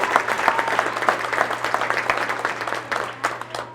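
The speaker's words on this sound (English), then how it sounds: "Could we have one more round of applause for our first, second, and third place winners?" An audience applauds steadily for the first, second and third place winners at a school DARE graduation ceremony, a dense, continuous wash of clapping with a low steady hum underneath.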